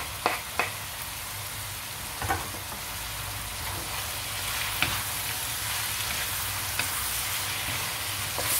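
Chicken meat frying with vegetables in a pan for stir-fried noodles, a steady close sizzle with a few sharp clicks and pops scattered throughout.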